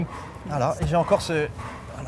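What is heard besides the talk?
dog barking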